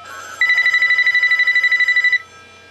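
A house telephone rings on an incoming call with no caller ID, one loud close electronic ring of rapid warbling pulses lasting under two seconds, then quiet.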